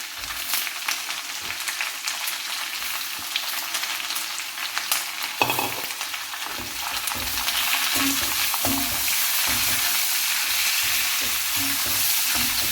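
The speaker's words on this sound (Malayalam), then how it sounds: "അത് മൂത്തതിന് ശേഷം ഉള്ളി സവാള ഇടാം മൂന്ന് സവാള കേട്ടോ" Onions sizzling in hot oil in a pan for Kerala-style chicken curry, a steady close frying hiss with intermittent stirring and scraping throughout.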